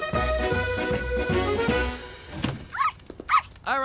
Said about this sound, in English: At least it's a small dog.